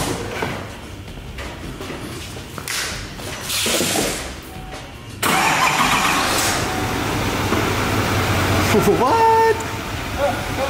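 A 6.6L Duramax turbo diesel truck, powered by a tiny motorcycle battery, cranks and fires, then settles into a loud, steady diesel idle. Before the start, people talk nearby, and a brief high whine comes near the end.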